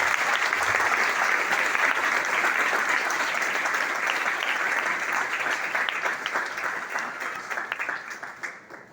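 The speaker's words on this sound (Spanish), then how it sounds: "Aplauso fuerte a nuestro patrón" A congregation in a parish church gives loud, sustained applause for its patron saint, Saint Ignatius of Loyola, during a Mass, dense clapping that gradually thins and fades.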